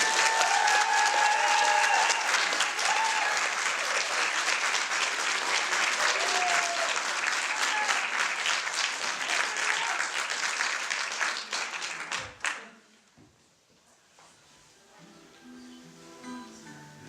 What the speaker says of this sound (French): je vais vous demander, messieurs, dames, un tonnerre d'applaudissements pour les jeunes du projet Écoute